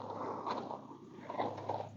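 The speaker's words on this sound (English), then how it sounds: "Licking and chewing, release of anxiety." A dog licks and chews close by, making soft wet mouth sounds and small smacks in a quiet room over a faint steady hum.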